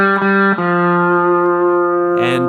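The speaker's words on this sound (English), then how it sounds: "you put that last little phrase together and it should sound like this." Electric guitar plays the closing phrase of a song solo, a few picked notes then a long sustained, processed note ringing loud and close, with a brief scrape near the end.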